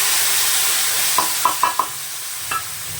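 Spice masala fries with potatoes in a pan under a steady loud sizzle, with a few soft scraping knocks of stirring scattered through the second half.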